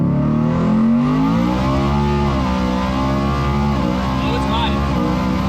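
A 1716HP 4WD Coyote F-150 truck roars at full throttle, its engine pitch climbing steadily through gears in a loud, sustained pull heard from inside the cab.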